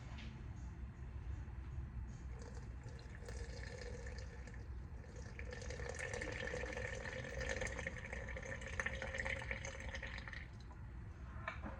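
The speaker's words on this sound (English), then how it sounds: "Then I'm gonna pour 100 grams of water into this jar as well." Water poured into a jar while making a sourdough starter from scratch, heard as a steady, faint trickle and splash lasting several seconds, rising slightly partway through, close by with no talking.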